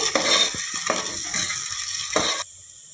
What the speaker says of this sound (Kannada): ಇಲ್ಲಿ ಪೂರ್ತಿ ಗೋಲ್ಡನ್ ಬ್ರೌನ್ ಆಗಬೇಕು ನಮಗೆ ಅಲ್ಲಿವರೆಗೂ ಫ್ರೈ ಮಾಡಬೇಕು